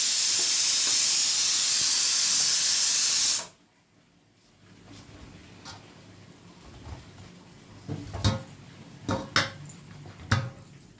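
A pressure cooker holding a pea and potato curry lets out a loud, steady hiss of steam for about three seconds, then cuts off abruptly, followed by scattered kitchen knocks and clatters.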